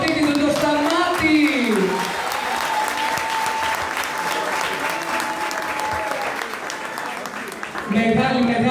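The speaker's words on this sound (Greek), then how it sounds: "Χειροκρότημα για τον ιδιοκτήτη του, τον Σταμάτη!" A crowd at the Velvet venue applauds its owner Stamatis with loud, sustained clapping and cheering, while a voice speaks over the applause at the start and again at the end.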